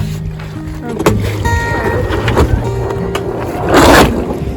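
A diesel boat engine rumbles close by on the ocean, with water sloshing against the hull and a louder rush of spray near the end.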